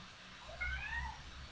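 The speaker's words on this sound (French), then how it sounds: "Là, il fait que miauler, je sais pas pourquoi." A cat meows faintly, several thin rising and falling calls drawn out over a low, steady background hum.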